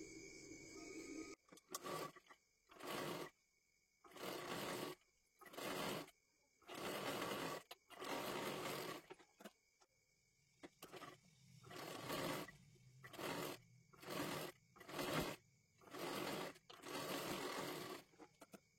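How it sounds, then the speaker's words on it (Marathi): A sewing machine stitches a sleeve border in repeated bursts of steady whirring, about a dozen runs separated by short pauses, close and clear with no talk. "आता हा काठ इथे आपल्याला लावून घ्यायचा आहे व्यवस्थित आणि दाबटीप सुद्धा टाकून घ्यायची आहे"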